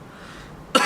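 A man gives a single short, sharp cough at the end of a quiet room-tone stretch, close and loud.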